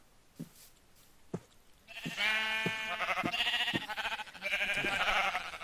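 Sheep bleating in Minecraft: a few soft thumps, then a run of loud, close, wavering bleats that overlap almost continuously for several seconds.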